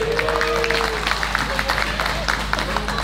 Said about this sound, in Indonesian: Tepuk tangannya semua dong.